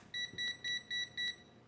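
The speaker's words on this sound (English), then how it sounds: "Hear those beeps?" A HYTALS TS98A budget multimeter gives five short, shrill electronic beeps in a quick even row, clear and alone against faint background hiss.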